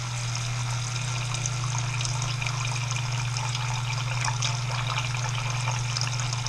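An electric self-priming water pump on a skiff pushes a steady, loud stream of water that gushes and splashes continuously over a constant low motor hum, with no pauses.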